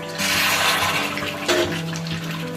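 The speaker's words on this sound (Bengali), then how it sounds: "চিকেনে কিন্তু আমি একটু জল দিয়ে দিই" Water splashes and pours steadily into a pan of chicken kasha cooked with tea liquor, a close, continuous watery rush with brief sizzling bubbles and no talk.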